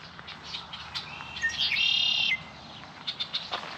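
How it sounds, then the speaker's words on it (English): A blackbird calls at a cattail-fringed pond in a rock garden, with a bright, trilling burst in the middle and scattered short chirps before and after, fairly clear over quiet outdoor background. "It's a peaceful spot with the blackbird."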